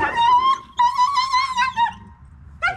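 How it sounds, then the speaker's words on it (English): A dog yelps in short, high, whining cries close by, several strained yips in quick succession during a raw food feeding with other dogs, loud and alone without talk. "When they do those kind of like yelps and they're not getting bit at all"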